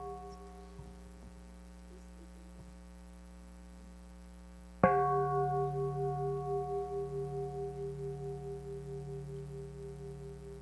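A meditation bell at a summer retreat struck once after a quiet low hum, ringing out clearly with a rich sustained tone that slowly fades with a gentle pulsing shimmer.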